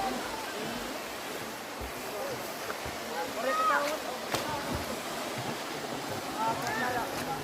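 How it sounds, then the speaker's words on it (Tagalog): Outdoor waterfall noise forms a constant rushing bed, moderately loud, while people talk over it and occasional clicks and knocks break through. "Ito pala yung falls nila dito."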